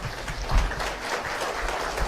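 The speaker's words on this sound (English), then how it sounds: "Why did you clap?" An audience claps in a hall during a design and innovation summit, a steady patter of applause held at an even level for about two seconds, with no one speaking over it.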